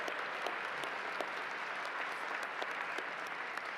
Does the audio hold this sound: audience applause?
yes